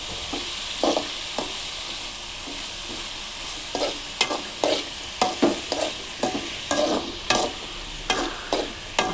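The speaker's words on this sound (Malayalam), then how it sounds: "എന്നിട്ട് നന്നായിട്ടൊന്ന് ഉപ്പിട്ടതിൻ്റെ ശേഷം നന്നായിട്ടൊന്ന് ഇളക്കി ചേർക്കുക" Salted ivy gourd stir-fry is stirred in a pan, with a spatula scraping in a steady rhythm of repeated strokes over a constant background sizzle, loud and close, with no voices.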